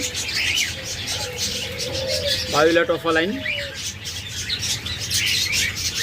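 Caged birds for sale, lovebirds, java sparrows and budgies, giving a dense chatter of chirps with a short run of quick repeated calls in the middle, under a voice speaking.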